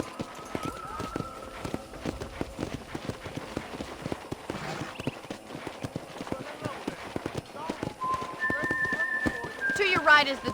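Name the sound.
horse galloping in video game Red Dead Redemption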